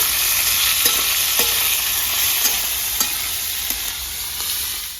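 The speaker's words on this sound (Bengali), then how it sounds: "এখানে 10-12টা রসুন গোটা, এখানে 2 ইঞ্চি করে আদা কেটে নিয়েছি, গোটা লঙ্কা কাঁচা, এগুলোকে একই সাথে ভেজে নেব।" Whole garlic cloves, ginger pieces and whole green chilies frying together in oil, a steady sizzle with occasional stirring scrapes, close and alone.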